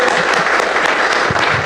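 A church congregation at a Portuguese-language worship service applauds Jesus, a loud, dense, steady roar of clapping hands that fills the whole moment without letting up.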